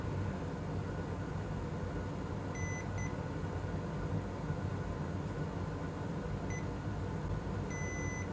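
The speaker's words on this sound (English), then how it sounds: "Meter in continuity mode." During a Nintendo Switch board repair, a multimeter set to continuity mode gives a few short, thin electronic beeps, one doubled, over a constant low background hum.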